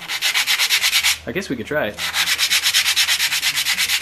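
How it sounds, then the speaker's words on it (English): Wood being sanded by hand with 100-grit sandpaper for a fingerboard, a rapid, even back-and-forth rasping stroke repeated about four times a second, close and loud, briefly pausing while a voice speaks. "100, sandpaper cuts through this wood real fast"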